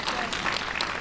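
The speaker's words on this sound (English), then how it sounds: "You can clap for that." A brief burst of audience clapping at a Chicago mayor's event, dense and close, with a voice faintly over it.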